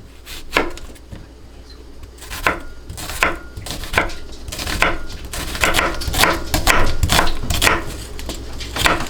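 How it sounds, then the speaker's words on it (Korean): Food is cut into bite-size pieces on a board in a home kitchen, with a series of irregular, fairly loud knife chops clustered in quick runs, and a short dog bark faint in between. "먹기 좋은 크기로 잘라줄게요."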